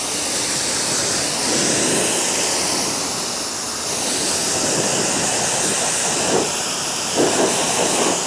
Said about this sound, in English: I always rinse from the top down